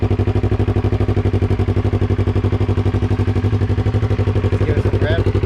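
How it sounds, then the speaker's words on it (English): A Yamaha R3 motorcycle fitted with an aftermarket exhaust idles steadily after starting, giving a loud, even, rapid pulsing throb throughout with no talk over it. "Here, I'll give you guys a startup of this exhaust."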